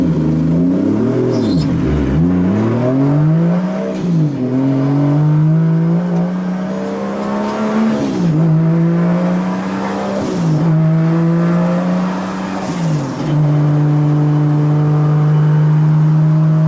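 A 2JZ-swapped Nissan 240SX drift car idles and revs on the street, its engine note rising and falling in several throttle blips before settling into a steady, loud drone; no voices.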